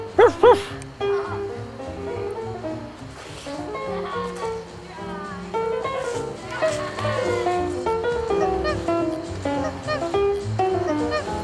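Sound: dog barking

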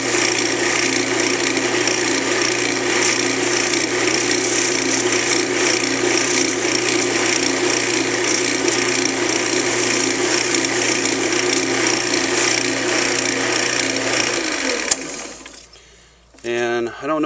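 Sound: burnishing wood with steel wool

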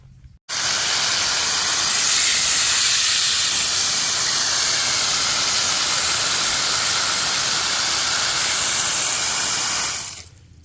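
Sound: water pump spraying water drawn from the pond

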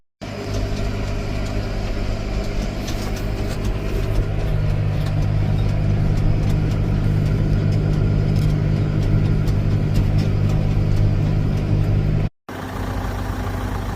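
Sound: tractor engine running while spreading lime

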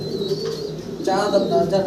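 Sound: pigeons cooing

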